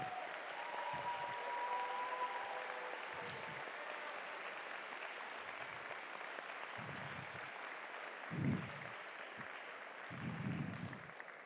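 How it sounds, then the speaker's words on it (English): A large audience applauds steadily at a FIRST robotics district event in Mishawaka, a dense, sustained wash of clapping that swells briefly near the end, with no voices over it. "Let's thank them with a loud round of applause for all their work on your behalf."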